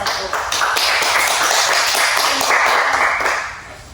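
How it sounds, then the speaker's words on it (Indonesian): A classroom audience applauds group 1 after a discussion session, dense steady clapping that stays loud for about three seconds and then tapers off near the end. "Berikan tepuk tangan yang meriah untuk kelompok"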